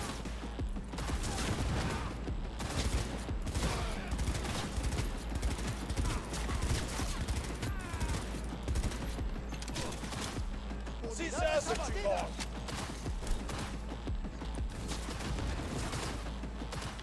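Gunfire in the Cyberpunk 2077 video game, rapid repeated shots and bursts crackling steadily throughout a hectic fight, mixed with clanking effects and voices talking and shouting over the shooting.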